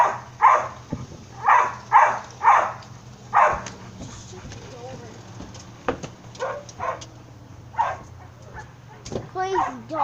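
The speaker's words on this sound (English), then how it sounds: "Crazy dog." A dog barking outdoors by a deck on the night of an 8th of July fireworks show, with a run of loud evenly spaced barks, then scattered yips and whimpers, while people talk in the background.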